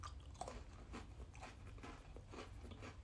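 Someone bites and chews a Jungle Cookies chocolate-coated biscuit with a dry, hard base, giving close, quiet, rhythmic crunching and mastication bursts roughly every half second.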